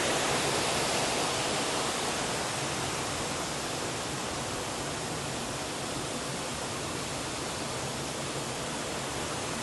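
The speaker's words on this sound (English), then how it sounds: "It's got the waterfalls" A constant, even rush of falling water from a jungle waterfall fills the space, a dense hiss with no breaks or other sounds.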